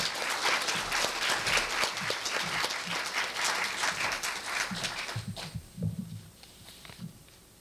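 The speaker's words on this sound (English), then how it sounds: "please give him a big round of applause." Conference audience at Korea University applauds a welcoming speaker, dense clapping that holds steady for several seconds and then thins out into scattered claps.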